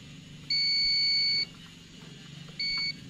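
A multimeter gives two clear electronic beeps while a diode is tested, a longer tone of about a second followed by a shorter one, close and steady over a quiet room hum.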